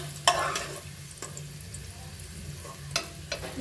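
Green beans fry in oil in a pan, a soft low sizzle punctuated by several brief scraping knocks as they are stirred and lifted out.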